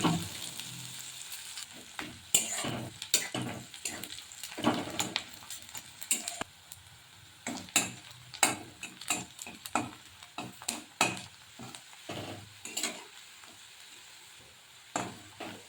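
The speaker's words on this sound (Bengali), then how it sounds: "পেঁয়াজগুলোকে নেড়ে চেড়ে একটু ব্রাউন কালার করে ভেজে নেব।" Onions frying in a pan for a soya veg biryani, a steady soft sizzle broken by frequent scraping stirs and clinks of the spoon at an irregular rhythm.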